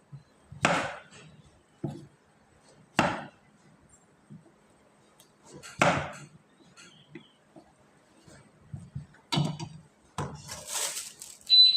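A knife chops firmly through a large pumpkin, several separate thuds on a board at an irregular pace, with quiet pauses and small handling sounds between.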